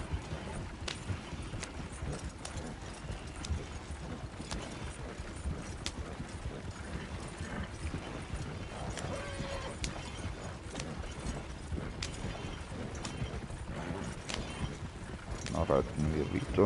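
Horse hooves clip-clopping steadily while riding in a hunting game, a soft regular rhythm running throughout, with someone talking over it.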